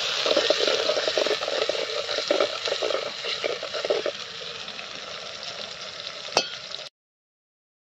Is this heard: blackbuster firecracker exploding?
no